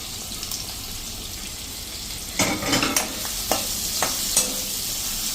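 Boiled potatoes are tipped into a single pan of vegetables and stirred, giving a soft, steady sizzle broken midway by a run of sharp clanks and scrapes of a spoon against the pan.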